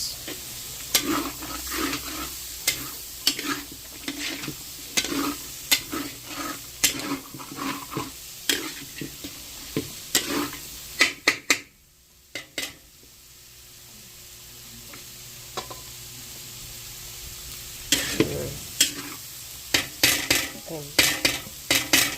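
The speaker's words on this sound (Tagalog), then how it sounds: "Lalagay pa po natin yung mga gulay. Lagay natin ang Baguio beans. Ang carrots." Green beans and carrots stir-fried in a pan for pancit sotanghon: repeated sharp clanks of a utensil against the pan over a soft sizzle, with a brief pause midway before the stirring resumes.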